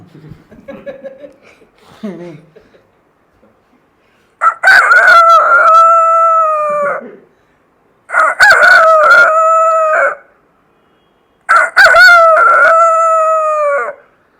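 A voice imitates a rooster crowing at dawn, three loud drawn-out cock-a-doodle-doo calls in a row, each separated by a short pause and following a few softer vocal sounds at the start.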